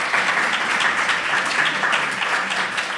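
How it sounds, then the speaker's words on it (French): An audience applauds steadily for a dentist guest on a French talk show, with continuous, fairly loud clapping filling the whole stretch. "Merci docteur, on peut l'applaudir."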